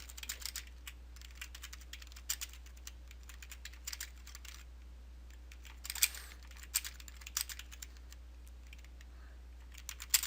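Steady typing on a computer keyboard, close and fairly quiet, with irregular bursts of key clicks and short pauses over a low constant hum.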